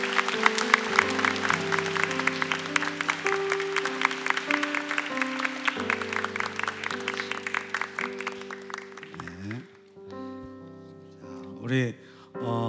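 A church service congregation claps in quick, dense bursts over sustained keyboard chords. The applause thins out and fades after about nine seconds, and a voice speaks near the end.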